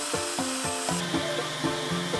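A hand saw cuts through a wooden dowel for a wooden automaton, about nine quick, rhythmic rasping strokes, close and moderately loud, with no voices.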